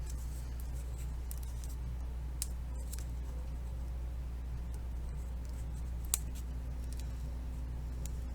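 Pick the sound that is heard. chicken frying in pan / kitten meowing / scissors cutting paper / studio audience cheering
scissors cutting paper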